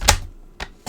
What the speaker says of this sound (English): I cut 1 inch